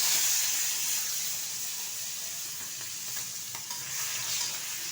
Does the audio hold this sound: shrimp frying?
yes